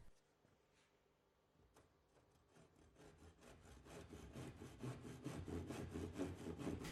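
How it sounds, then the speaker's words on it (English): Timber being cut by hand with a tenon saw, a quiet start building into steady, rhythmic rasping strokes that grow louder and closer. "use a tenon saw to cut just inside of the pencil"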